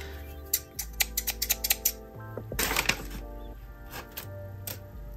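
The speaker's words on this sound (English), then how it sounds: "these scissors almost cut it open" Titanium bonded blade scissors snip in a quick run of crisp, close cuts, then a longer rustling cut, with a few more isolated snips after a pause.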